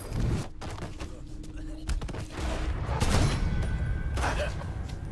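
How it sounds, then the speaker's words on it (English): Gunfire in Mafia 3 cracks out in several sharp shots and rattling bursts over rumbling background noise, with game characters shouting between the shots. "Blast him! Shoot some shit up!"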